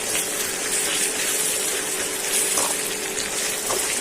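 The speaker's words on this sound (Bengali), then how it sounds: "এখন মশলাটা যাতে না পড়ে একটু ঝোল দিয়ে দিই" Broth poured into a pan of spiced boal fish being cooked bhuna-style, a steady liquid gush and splash running throughout without any talking.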